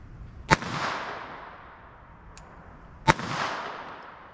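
Two sharp .22 LR pocket pistol shots about two and a half seconds apart, each followed by a short echoing tail outdoors, moderately close.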